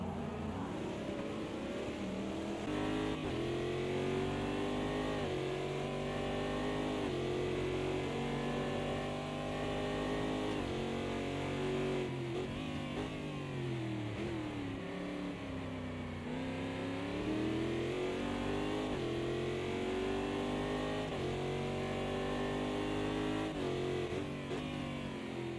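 A race car engine roars steadily on an onboard lap of the Red Bull Ring in Spielberg during an endurance race, revving up and down through the gears continuously and loudly close by.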